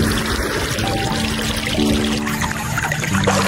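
Water pours and splashes steadily and loudly close by while someone bathes in a river, with no talking.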